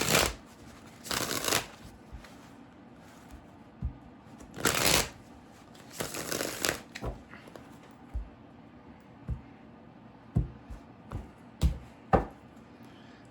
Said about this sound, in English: Two more shuffles for Leo.